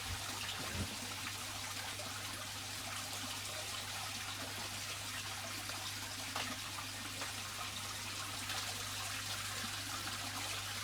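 Water runs steadily through a hose pipe into a fish breeding tank, a soft continuous trickle and wash that stays even and close throughout, with no talking.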